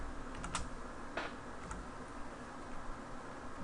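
Arduino code is typed on a computer keyboard, with quick clusters of key clicks over a steady background hum, close and quiet.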